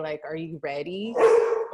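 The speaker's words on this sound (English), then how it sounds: "That's our dog. That's our dog." A dog barks a few times near the end, loud and close, overlapping with people talking in a room.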